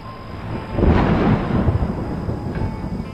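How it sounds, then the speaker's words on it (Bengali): A thunder sound effect in a Bengali ghost audio story: a loud clap swells into a heavy, rolling rumble that stays strong, with no voices over it. "আবারও বাজ পড়ল কর্কর শব্দে।"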